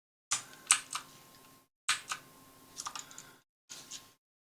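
Typing on a computer keyboard to enter values in modelling software, in three short bursts of close, crisp key clicks separated by pauses, with no talk.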